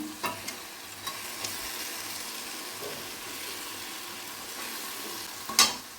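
Banana flower curry is stirred in a pan with ghee, giving a soft, steady sizzle with a few light scrapes and one sharper clink near the end.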